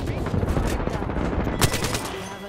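Rapid automatic gunfire in Apex Legends, dense overlapping bursts close and loud throughout, with a sharper crack near the middle and faint voices mixed in.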